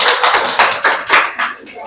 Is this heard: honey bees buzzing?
no